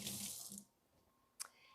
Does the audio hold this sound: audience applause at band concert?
no